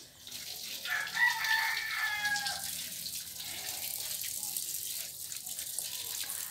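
A rooster crows once, fairly faint and a little distant, over a steady hiss like running water.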